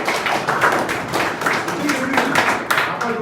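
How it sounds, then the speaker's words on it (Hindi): Schoolchildren clapping loudly together at a public school in India, a dense, fairly close burst of hand claps that continues with some sharper accents. "जोर से ताली बजाओ।"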